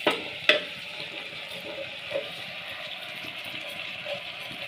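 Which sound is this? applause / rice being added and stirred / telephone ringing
rice being added and stirred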